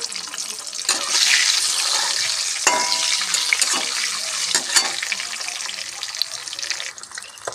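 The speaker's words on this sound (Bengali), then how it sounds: "তেলে দিয়ে ভালো করে ভেজে নেব।" A slit boiled egg frying in hot oil for an egg curry, a bright continuous sizzle with crackling pops and a few stirring scrapes, close by and fading slightly toward the end.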